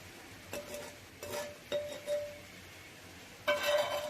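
Carrot and green chilli pickle is stirred in a container, producing four separate ringing clinks with quiet gaps between them.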